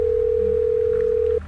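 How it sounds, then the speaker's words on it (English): A telephone ring heard through the handset while calling a number: a single steady electronic tone lasting over a second, then stopping abruptly. "By the second ring, I hear his voice on the phone."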